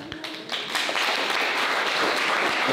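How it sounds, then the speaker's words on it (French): Audience applause at a youth party debate in Valais on immigration, a dense steady wash of many hands clapping that swells after a brief start and holds loud throughout. "On applaudit."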